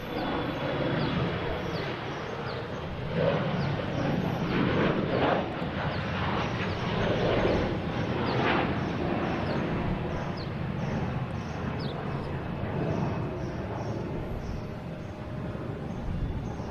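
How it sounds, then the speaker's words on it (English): American Airlines Embraer E-175 jet takes off at Boston Logan International Airport, a distant broad engine roar that swells and holds steadily at moderate-low level with airport ambient noise. "next taking off is American Airlines heading to Syracuse, the E-175"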